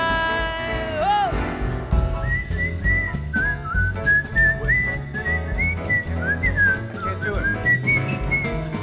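A person whistles a bright, lilting melody in a performance setting, a single clear voice-free tune with sliding notes over light background accompaniment, lasting several seconds.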